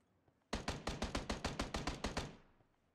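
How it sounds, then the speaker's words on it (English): A rapid burst of about a dozen evenly spaced gunshots rings out in PUBG, loud and close, with each shot sharp and punchy before the volley trails off into quiet. "Sam just popped some shots."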